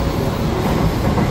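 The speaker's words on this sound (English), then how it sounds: "Got to transfer over to Shinkansen." A Shinkansen bullet train runs on its rails, a loud, steady, dense rumble and rushing roar heard from inside throughout the short stretch.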